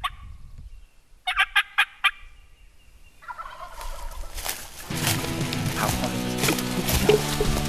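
Wild turkey gobbling in the woods during an early-season hunt, a call-like series of sharp notes followed by a loud rolling gobble, then more gobbling and rustling layered over steady outdoor noise.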